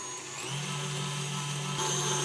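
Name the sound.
electric mixer mixing butter into cake mixture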